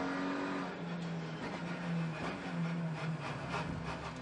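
Onboard engine noise from a touring race car in a WTCR race in Morocco. The engine drones and revs with gear-change dips, and a faint rubbing rumble runs underneath for a few seconds.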